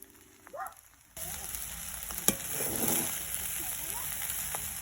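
Chicken fried rice ingredients sizzling in a pan, the frying kicking in loudly after a brief quiet start, with a sharp clank and scraping stirs over a steady hiss.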